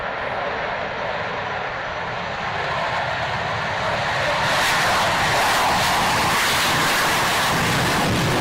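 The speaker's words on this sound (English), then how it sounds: "Coming up now, a very loud aircraft." A very loud aircraft roars past at an air display, a broad continuous engine roar that swells louder toward the end.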